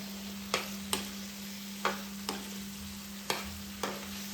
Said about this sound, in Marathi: आता आपण हे पनीर टाकून घेऊया एंडनं आणि व्यवस्थितपणे मिक्स करून घेऊया.